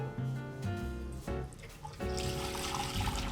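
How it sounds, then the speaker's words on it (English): Strained chicken soup broth runs and trickles steadily as liquid is pressed out of the cooked vegetables, a close, continuous pouring sound with a brief dip midway. "So now we strain the liquid. I'm just gonna press as much out of these vegetables as I can."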